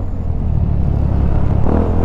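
A motorcycle passes on a road at night during a long ride, a loud, deep, steady engine rumble that holds close throughout with a slight swell near the end.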